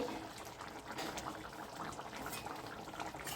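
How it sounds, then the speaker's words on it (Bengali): Lentils and chunks of raw papaya simmering in a covered pot, a steady close bubbling hiss and gurgle running evenly throughout without any voices. "আর ডালটাও ফুটে এসেছে এটা আর একটু ফুটবে"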